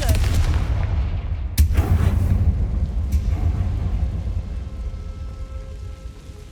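A Confringo blasting spell goes off in Hogwarts Legacy with a heavy booming rumble, a sharp crack partway through and a second fainter crack, then a long rolling decay of low debris noise.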